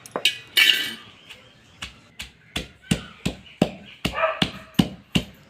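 A metal spoon mixing chutney, or thecha, in a bowl, giving a steady run of sharp clinks and scrapes at a regular pace, close and fairly loud, with a bit of background noise in between.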